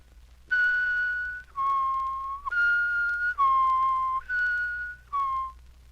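A person whistles a clear, steady tune in six sustained phrases, each one gliding or stepping between two pitches with short gaps between them. The whistle is close and alone, with no talk.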